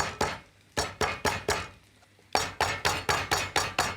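A heavy pestle pounds trimmed lemongrass stalks in a kitchen, a close series of sharp, clinking strikes in two quick bursts separated by a short pause, the blows regular and crisp.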